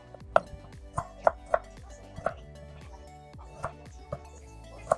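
A knife cuts a peeled potato into slices on a board, about a dozen crisp, close chops at an uneven pace, each sharp tap standing alone against a quiet background.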